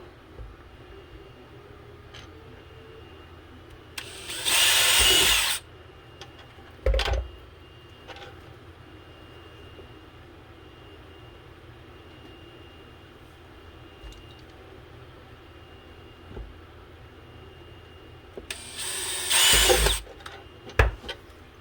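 A power drill reams out tight holes in a wiring box from an ice hole power kit, with two loud bursts of a few seconds each, a short blip between them and quiet room tone in the gaps.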